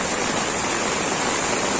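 Heavy downpour in Virar city, a dense, unbroken hiss of falling rain, loud and close, with no voices over it.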